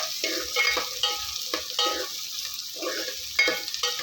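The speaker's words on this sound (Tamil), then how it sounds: "நல்லா வெங்காயம் வதங்கி வரும்" Small shallots (sambar onions) with curry leaves sautéing in a pan for a village-style cowpea curry, a steady near sizzle broken by repeated scraping stirs of a spoon against the pan, with no talking.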